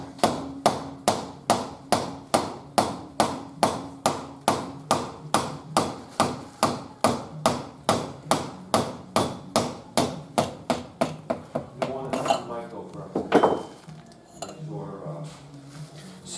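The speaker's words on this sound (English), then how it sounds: "then you can tap it out with a mallet" Steady series of about forty sharp mallet taps drives a piston out of a Graco paint pump during a rebuild, evenly spaced and close, followed by a few seconds of clattering handling noise.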